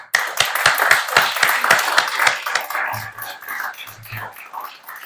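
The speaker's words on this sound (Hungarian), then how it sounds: "Ezért szeretnék egy tapssal megköszönni a Gödértnek és Bodnár Zsuzsának a munkáját." An indoor audience claps in thanks, a steady run of close, sharp handclaps that thins out toward the end, with some low murmuring underneath.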